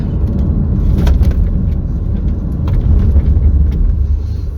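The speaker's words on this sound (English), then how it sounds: "This car is now gaining on us." A car on a rural road runs close behind, its engine and tyre rumble a steady, fairly loud drone with slight swells throughout.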